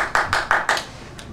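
Sparse, hesitant applause at a Toastmasters meeting: four or five soft, separate claps in a short uneven sequence, then a single faint clap after a pause.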